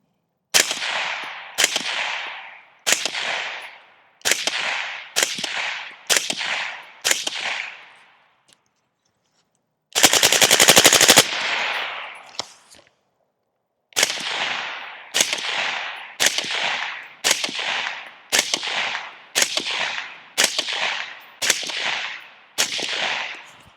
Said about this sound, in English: let's load up some more mags and continue shooting